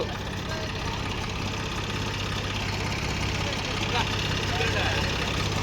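Two JCB excavators and a harvester drone steadily nearby while pulling out a stuck loaded lorry, a continuous low mechanical rumble with some knocking texture throughout.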